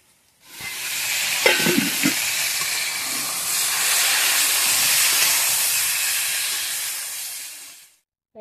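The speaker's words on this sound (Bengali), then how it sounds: "এইভাবে ভেন্ডিটাকে ভালো করে ভেজে নেবে।" Okra fries under a lid in a covered pan for a Bengali okra curry, giving a loud, even steamy hiss that swells after a couple of clanks and then cuts off sharply when the lid comes off.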